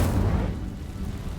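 A fiery Incendio spell blast in Hogwarts Legacy, a dense low roaring whoosh that swells at once and then rumbles on steadily for over a second, loud and up close with no voice over it.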